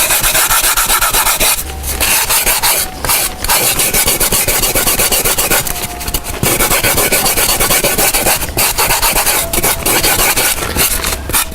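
Sandpaper rasps steadily over a carved foam armature for an Asian elephant skull, a loud, continuous close-up rubbing with rhythmic back-and-forth strokes and a few brief pauses, with no talking.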